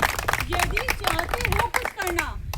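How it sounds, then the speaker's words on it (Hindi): Hands clap in scattered bursts from the audience at a poetry recital by the border, partly under a strong reciting voice that carries through the whole stretch. "ताली"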